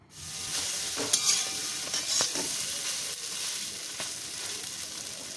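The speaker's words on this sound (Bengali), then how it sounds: "আমি এর মধ্যে সামান্য পরিমাণে লবণ দিয়ে সোয়াবিনটাকে ভেজে" Soybean chunks frying in oil with salt on a medium gas flame, a continuous close sizzle broken by scraping stirs and light clinks, with no voices.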